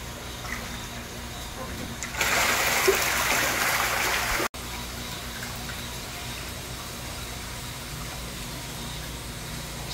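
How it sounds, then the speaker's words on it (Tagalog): Water gushes and drains from a conical-bottom fish tank used for raising hito catfish, a steady rushing flow that swells louder for a couple of seconds, cuts off briefly, then continues at an even level. "Ayan, malapit lang madrain yung tubig."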